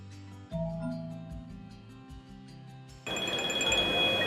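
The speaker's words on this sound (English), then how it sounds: "Oh, it's my phone." A mobile phone ringtone plays in a quiet room, a bright looping melody that switches partway through to a louder, denser pattern of repeated tones, close and steady with no talk over it.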